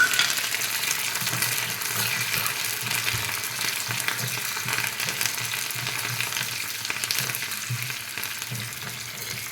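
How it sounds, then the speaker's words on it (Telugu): Garlic and dried red chillies fry in a hot pan for a Telugu-style dondakaya (ivy gourd) chutney, giving a steady, loud, continuous sizzle with faint stirring underneath and no voices. "తెల్లగడ్డలు ఒట్టిమిరపకాయలు అన్నీ వేసేసాండి"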